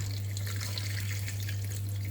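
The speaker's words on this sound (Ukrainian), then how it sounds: "І тепер заливаємо їх водою" Water runs steadily in a continuous splashing stream over chopped potatoes, close and moderately loud, with a low steady hum underneath.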